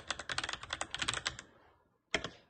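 Quick bursts of clicking keystrokes on a computer keyboard as a Ctrl+Alt+T shortcut is typed, close and fairly quiet, a flurry of taps, a short pause, then a final few keys.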